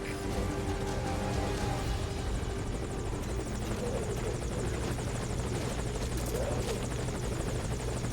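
A helicopter from Metal Gear Solid V: Ground Zeroes drones loudly and steadily throughout, with constant rotor and engine noise and no speech.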